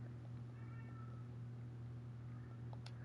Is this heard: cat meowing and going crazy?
yes